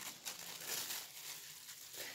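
A plastic bag is handled and spread open by hand for crochet, giving a close, continuous, soft crinkling rustle with no voices.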